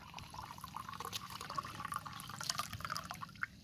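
Fresh coconut water pours and trickles in a faint, steady stream, a quiet liquid splash heard close with no talk.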